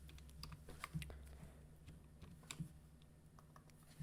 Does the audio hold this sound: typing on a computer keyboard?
yes